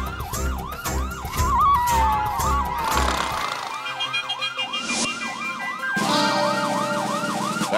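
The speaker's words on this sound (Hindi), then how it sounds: "पुलिस के सायरन की आवाज है ना" A police car siren wails in fast, repeating up-down sweeps, loud and close, continuing throughout with engine rumble underneath at first.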